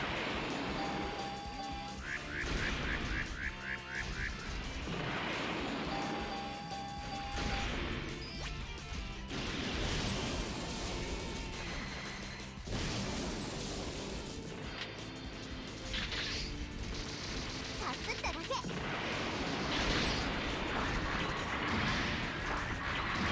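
Missiles fire in Gundam Seed Battle Destiny Remastered from an anti-battleship mobile suit, with repeated sharp blasts and crashing impacts in bursts over dense game effects and faint electronic beeps.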